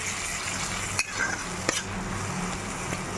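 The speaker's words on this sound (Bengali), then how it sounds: "এই আদা রসুন পেস্টটা দিয়ে একবার একটু ভালো করে কষিয়ে নেবো এখন" Ginger garlic paste fries with onions in a pan for a fish kalia, making a continuous sizzle broken by a couple of sharp scrapes of a utensil against the pan, with no one speaking.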